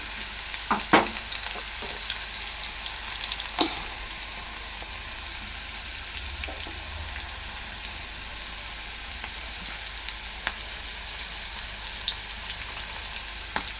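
Ragi flour pakoda fry in hot oil with a steady, soft sizzle and crackle, punctuated by a few louder pops and spatters near the start, close up and continuous with no talking.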